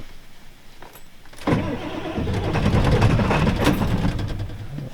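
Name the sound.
old Ford F-250/F-350 7.3L diesel engine starting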